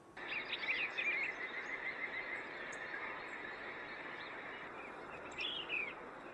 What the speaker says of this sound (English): Listen to the beautiful Eastern Bluebird song.